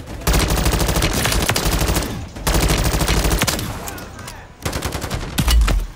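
Gunfire in MW3 Zombies: loud, sustained automatic bursts of rapid shots in three long volleys separated by short gaps, close and dense, with explosions mixed in toward the end.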